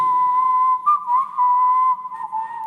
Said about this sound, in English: I think I hear whistling from deep in the prison.